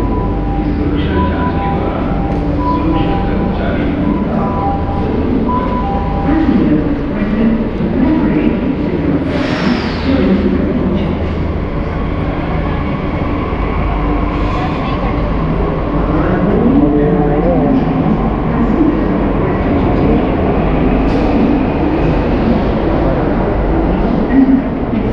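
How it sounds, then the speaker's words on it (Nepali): Steady low rumble and hum fill a Delhi metro station, with a train's drone and mechanical noise running continuously at close range and faint voices in the background. "दिल्लीको मेट्रो स्टेसनमा छु"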